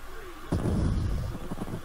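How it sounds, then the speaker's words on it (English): A delayed explosion in the Super Mario World video game, one sudden booming burst about halfway through that rumbles and crackles as it fades, heard alone without talk. "That was a delayed explosion."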